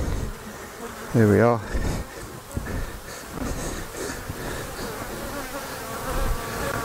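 Honey bees buzz around a frame of honey during honey extraction, a constant near drone under the scene, with a short loud tonal burst early on and a few brief spoken words.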